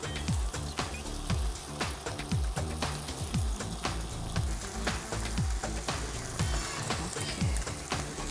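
Egg frying in a pan while cooking pad thai with shrimp, a steady loud sizzle and crackle throughout with repeated clanks of a utensil against the pan.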